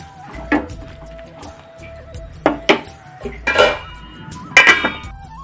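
Vegetables in a metal pot being stirred after turmeric powder is added, for an Onam koottucurry; a handful of sharp spoon scrapes and clanks against the pot in uneven bursts, close and loud, with quiet gaps between.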